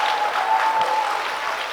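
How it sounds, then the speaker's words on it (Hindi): A short burst of steady applause from a quiz audience, clapping evenly throughout with a faint tone in the background. "हेमा मालिनी, तालियां जोरों से बजाइए आपके लिए।"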